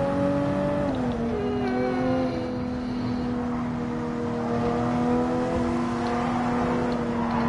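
A Honda NSX races in a video game, its engine a steady, close, high whine that climbs and settles in pitch as the car accelerates, with no talk over it.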